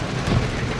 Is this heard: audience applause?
no